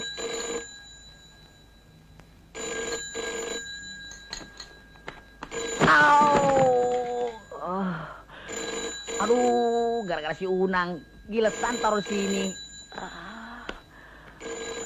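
An old-style telephone bell rings in repeated bursts in a 1988-set comedy scene, the ringing fairly loud and broken by pauses, with people talking between and over the rings.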